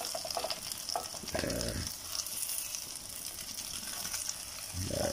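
Chilies, shallots and garlic are dry-roasted together in a pan, giving a steady crackling sizzle with occasional stirring scrapes, close and fairly quiet throughout.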